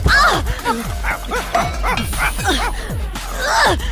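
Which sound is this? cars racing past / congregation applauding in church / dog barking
dog barking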